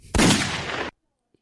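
A burst of gunshots comes through a podcast call, loud and harsh, lasting under a second before cutting abruptly to silence.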